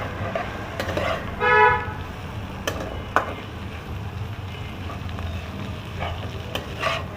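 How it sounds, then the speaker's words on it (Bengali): Mushrooms sizzle in a hot pan for a salt-and-pepper fry, with a soft steady frying hiss and occasional scraping clicks of a spoon stirring, plus a brief tonal squeal partway through. "এবারে মাশরুমটাও দিয়ে দিলাম।"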